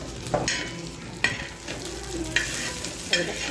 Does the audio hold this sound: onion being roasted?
yes